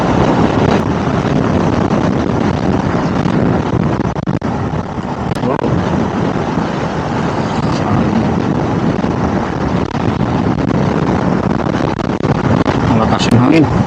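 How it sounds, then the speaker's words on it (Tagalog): Strong wind roars and buffets steadily and loudly against the rider of a Suzuki Gixxer 155fi motorcycle on a road near Tangub City, lasting the whole time without a break. "Malakas yung hangin."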